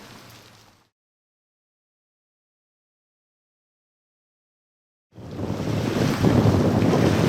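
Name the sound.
strong wind on the shore of North Lake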